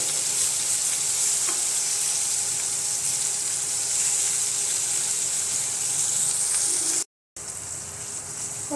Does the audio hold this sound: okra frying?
yes